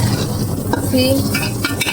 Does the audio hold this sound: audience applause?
no